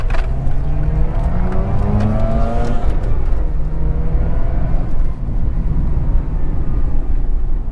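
A Mazda RX8 with a manual gearbox revs up through the gears, its engine note climbing, dropping at each shift and climbing again, loud and close, from inside the car, with no talk.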